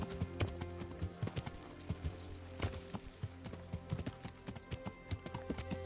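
Horse hooves clip-clop in the video game Kingdom Come: Deliverance, a brisk, steady trotting rhythm of crisp close hoofbeats over a faint musical backdrop.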